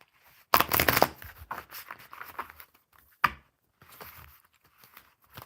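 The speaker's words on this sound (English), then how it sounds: "All right, one more shuffle here." A deck of playing cards is shuffled by hand, a loud riffling burst followed by softer scattered flicks and a sharp single snap, close up with no talk.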